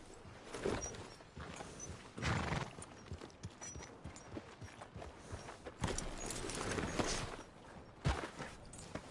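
Horse at a stable in the video game Red Dead Redemption 2, with hooves clip-clopping on the ground in uneven steps and occasional soft snorts against quiet game ambience.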